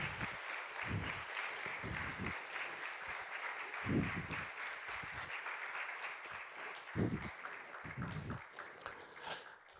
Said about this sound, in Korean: 우리 선교사님 박수로 환영하겠습니다.